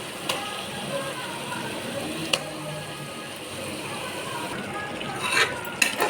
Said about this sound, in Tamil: சிக்கன் நல்லா வதங்கட்டும்